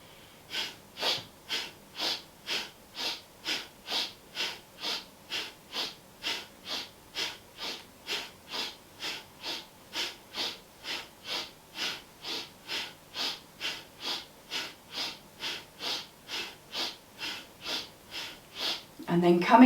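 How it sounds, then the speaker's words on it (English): A yoga breathing exercise of rapid, forceful breaths through the nose, about thirty-five sharp, evenly paced breaths in a steady rhythm, close and clear with no talking. "So breathing in to begin"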